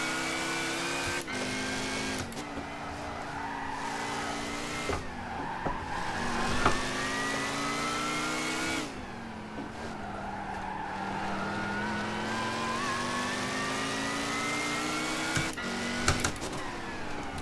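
Race car engine in the video game Gran Turismo 5, revving steadily and rising and falling through gear changes, with brief tire skids and squeals. It sounds loud and continuous, with no talking.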